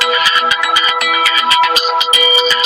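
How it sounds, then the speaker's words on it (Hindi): A mobile phone ringing loudly, its electronic melodic tone repeating in quick rhythmic pulses. "अभिनव का फोन बज उठा।"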